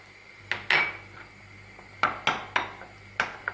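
Yogurt and flour being mixed together in a bowl with a spoon for a vegetable vermicelli soup, heard as several sharp, close clinks and scrapes of utensil against the bowl at irregular intervals, with no talking.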